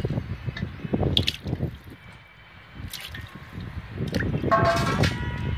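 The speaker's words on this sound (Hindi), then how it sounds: "पाए जो इस पानी में ऐड कर देने हैं।" Goat trotters are lowered into a pot of water while cooking paya, producing sloshing, dripping and splashing water sounds in irregular bursts, fairly close, with no talking.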